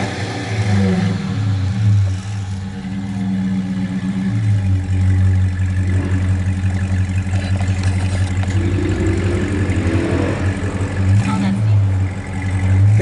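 A car with a muffler delete exhaust rumbles loudly, idling and revving in surges with a deep throaty drone, and a voice briefly audible under the engine.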